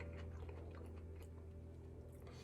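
Crunchy roasted hawaij cauliflower with gribiche sauce being chewed close up, a steady run of crisp bites and mastication lasting a couple of seconds, fairly quiet with no talking.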